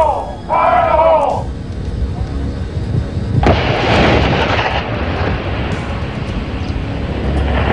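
Military high explosives go off in a demolition test, a loud roaring blast that swells midway and rolls on as a long rumbling wash, with a shouted voice briefly heard at the start.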